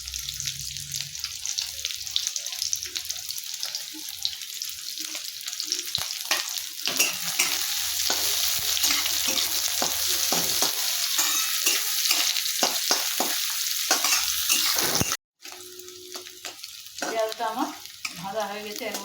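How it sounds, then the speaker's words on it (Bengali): Chopped onion fries in hot oil with a loud, constant sizzle, punctuated by repeated clinks and scrapes of stirring, a brief drop to near silence partway through before the frying resumes. "তেলের মধ্যে আমি কুচনো পেঁয়াজ দিয়ে দিচ্ছি।"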